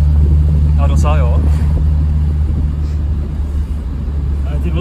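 Lada Nova car engine with a newly tuned carburetor, a steady low drone throughout while driving over rough terrain, with someone talking over it near the start.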